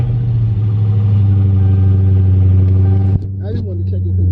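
A car engine idles steadily with a strong low hum and even harmonics, loud and close, then a brief shift in tone near the end as the running note changes.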